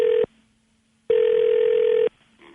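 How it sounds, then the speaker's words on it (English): A telephone call on a radio show gives two loud, even ringback tones, a short one and then a longer one, separated by near silence. No one speaks. "Let's call her daughter right quick, see if we can get her on the phone."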